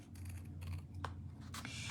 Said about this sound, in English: we can just come in with our scissors and cut off any extra here